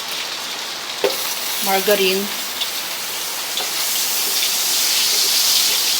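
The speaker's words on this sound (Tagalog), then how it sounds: "Ang lakas ng ulan." Heavy rain pours down in a steady, dense broadband hiss that swells slightly toward the end, heard from a kitchen during cooking, with a brief voice and a few light clinks partway through.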